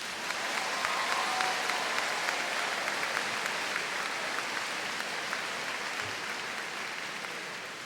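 Audience applause at an 8th grade promotion ceremony, Heineman Middle School: a steady, dense wash of clapping from a large crowd that holds at an even level throughout and thins slightly toward the end.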